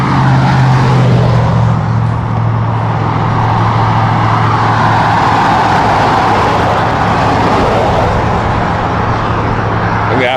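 Steady wash of fairly busy traffic on a three-lane road, cars and heavier vehicles rolling past continuously at a middling distance with a constant engine and tire roar.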